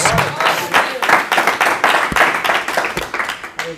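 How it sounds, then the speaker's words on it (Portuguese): Church congregation at a worship service clapping together in a sustained burst of applause, close and lively, with voices calling out over it. "se você crê, recebe uma salva de palmas para o Senhor"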